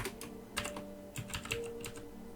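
Clattering keystrokes on a loud computer keyboard, a quick irregular run of close, crisp clicks with no voices.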